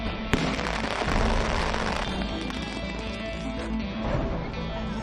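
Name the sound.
illegal firecrackers set off by police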